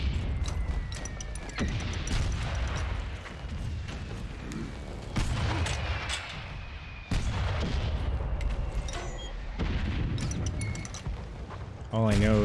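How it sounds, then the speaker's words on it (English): Repeated gunfire and heavy booms of battle fill the First World War video game Valiant Hearts: The Great War, a dense, loud barrage of blasts that breaks off and starts again several times. "It doesn't show me actually where they're landing, so I'm just kind of shooting."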